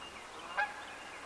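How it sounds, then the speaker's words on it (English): One short, distant goose honk rises briefly above a soft, steady outdoor hush. "And there goes some geese. Can you hear the geese?"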